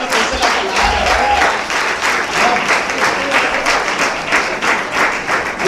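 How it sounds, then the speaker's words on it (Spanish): A church congregation claps and applauds during a sermon, a loud dense wash of hands with a faint rhythmic pulse, sustained throughout, with a voice faintly present underneath. "Amén, denle palmas al Señor."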